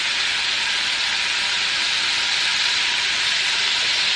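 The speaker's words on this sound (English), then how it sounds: "We're going to let this bacon cook up" Plenty of bacon frying in a breakfast skillet, a loud, steady, hissing sizzle held close and unbroken, with no voices.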